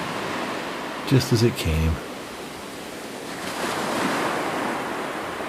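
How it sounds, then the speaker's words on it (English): Steady ocean surf washes onto a beach in a broad, continuous roar with a slow swell of wave wash, while a calm voice speaks briefly over it early on. "listening to the sounds of the waves"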